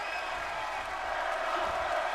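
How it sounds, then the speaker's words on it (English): A steady arena crowd cheering in the wrestling video game WWE 2K23, a continuous roar with a commentator's voice talking over it. "the crowd absolutely loving this match"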